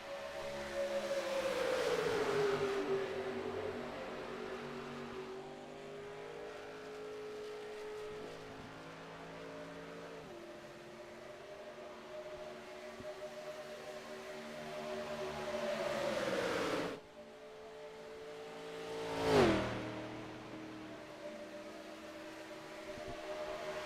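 Simulated NASCAR stock cars at Daytona in an iRacing practice session drone steadily at moderate volume, engine pitch rising and falling as cars pass, with a sharp whoosh of a car going by near the end.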